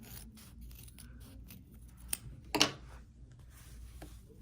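Scissors cut out a paper heart ornament up close with a series of soft snips, including one sharper crisp cut near the middle, over quiet background.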